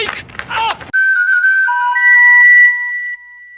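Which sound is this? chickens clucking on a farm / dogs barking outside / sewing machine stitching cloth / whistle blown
whistle blown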